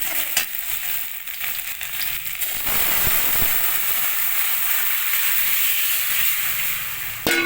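Crushed garlic, then lentils, hit hot oil with dried chillies in a pan for a Bengali mustard-greens dal. A loud, steady sizzle and hiss swells as the dal goes in, with a few sharp utensil knocks.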